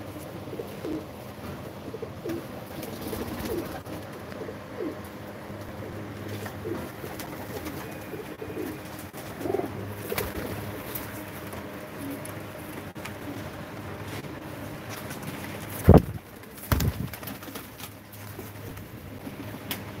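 Pigeons coo in low, repeated throaty calls, steady and close, over a soft background of rustling and shuffling.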